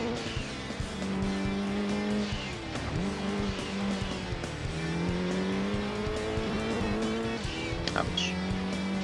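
A 600 PS racing car driven fast in Gran Turismo 2, its engine revving and shifting through gears, with tires squealing in the corners. The sound is loud and continuous.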